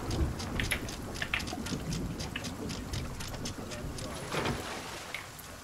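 Storm rain and thunder at sea in the Sea of Thieves video game, heard as a constant hiss of rain with low rumbling and scattered splashy bursts, partly under players talking.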